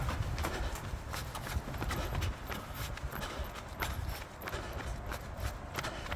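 A Coupang Quickflex night delivery driver runs, his rapid, light footfalls patting steadily over a constant background rush.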